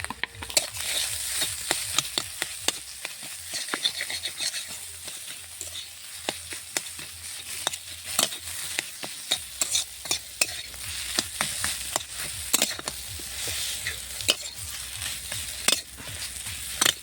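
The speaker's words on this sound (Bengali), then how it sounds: "লবণ, জিরে ভাজার গুঁড়ো আর কাঁচা মরিচ দিয়ে তরকারিটা একটু কষিয়ে নিলাম।" Potato curry frying with salt, roasted cumin powder and green chilli, a steady close sizzle broken by frequent scraping and clacking strokes of a spatula stirring the pan, with no talking.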